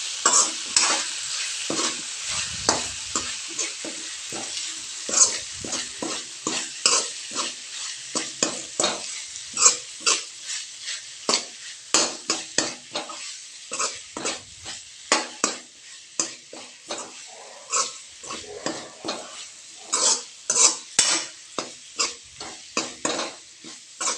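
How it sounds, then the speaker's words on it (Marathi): A spoon stirs and fries onion-tomato chutney with crushed peanuts in a hot pan, sounding as a steady sizzle broken by rapid, repeated scraping strokes, close up and with no talking. "आता ते व्यवस्थित परतून घ्यायचे"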